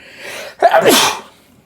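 A single sharp sneeze, a short inhale followed by a loud burst, heard up close and alone.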